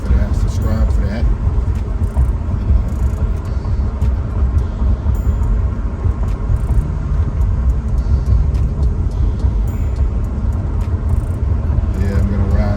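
A Maserati GranTurismo drives along a street, its engine and exhaust making a loud, continuous rumble blended with road noise throughout, with low voices mixed in.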